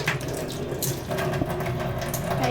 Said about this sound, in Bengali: প্যারাগুলোকে আমি ভালো করে ধুয়ে নিচ্ছি